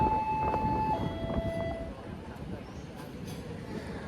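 Argo Semeru New Generation passenger train from Surabaya Gubeng to Gambir, heard from inside the carriage as a steady low rumble of running wheels, with brief tonal squeals early on and faint voices in the background.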